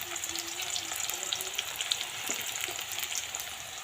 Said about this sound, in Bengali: মাংসটা রান্না করছি, আজকে পেঁপে দিয়ে মাংস রান্না হবে।